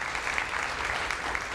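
Steady, dense applause from a crowd at a formal dinner event, continuous and even throughout, with no talking over it.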